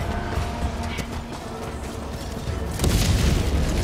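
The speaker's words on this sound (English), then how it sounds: "Big ol' laser cannon." A heavy laser cannon in the video game Helldivers 2 fires as a sustained, roaring energy blast, loud and close, swelling sharply near the end with a burst of rumbling booms and no talk over it.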